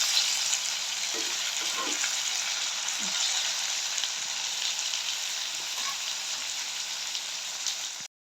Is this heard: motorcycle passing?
no